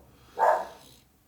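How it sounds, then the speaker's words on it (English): A single short, muffled dog bark sounds once in a quiet indoor room during a tabletop wargame session. "Right, sorry for the dog."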